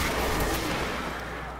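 Rapid, dense gunfire from the video game Destiny, a continuous loud barrage of shots filling the whole short moment.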